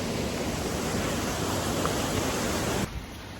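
A waterfall roars steadily as a dense, even rush of falling water, close and loud, cutting off abruptly just before the end.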